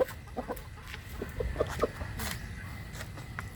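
Chickens cluck softly nearby in short, scattered bursts over a low background murmur.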